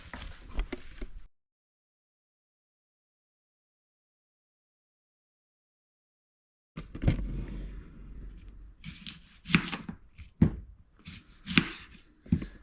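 A knife slicing onion thin on a cutting board, a short burst of cuts, then a long silence, then a run of sharp irregular chopping taps, close and distinct.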